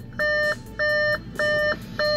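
Warning beeps from a 2016 Audi Q5 2.0T Quattro, US-import model, while a door stands open: four evenly spaced sustained electronic tones, loud and near, with a faint hum in the gaps and no speech.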